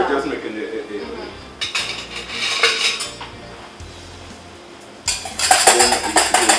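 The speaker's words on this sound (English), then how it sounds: "There go that whisk action again." Whisking aioli in a bowl, the whisk clattering against the sides in bursts of rapid metallic scraping and clinking, loud and close, with a quieter pause in the middle before the beating picks up again.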